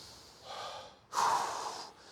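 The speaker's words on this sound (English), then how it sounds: "Take a big deep breath. In through the nose. Exhale." A person takes a slow, deep breath in through the nose, then a stronger, louder exhale follows after a brief pause, both close and with no talking.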